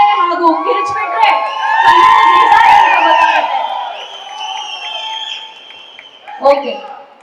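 A crowd at the Kamal Sridevi film pre-release event cheers, whoops and shouts for several seconds, with children's voices among the noise and a last burst of shouting near the end.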